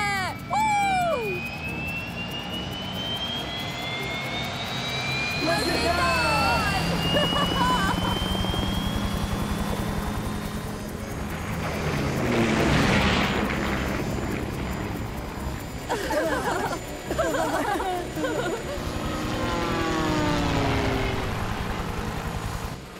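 A helicopter's steady engine and rotor drone fills the whole stretch, loud and continuous, with voices talking over it now and then.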